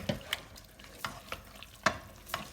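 Quiet sizzling of onions and tomatoes frying for aloo gosht under soft scraping and clinking of a spoon stirring in a pot, with a few sharper taps at irregular intervals.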